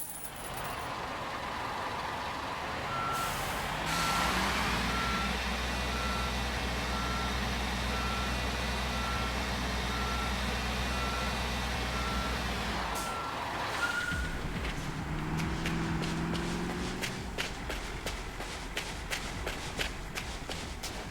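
A truck backs up to park in Construction Simulator, its reversing alarm beeping steadily over a droning engine, then the engine dies and rapid clicks follow.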